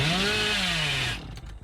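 A revving, buzzing chainsaw from the Dead by Daylight killer Billy during his chainsaw sprint, loud and close, with a rising-then-falling engine whine that cuts off abruptly into brief clattering noises.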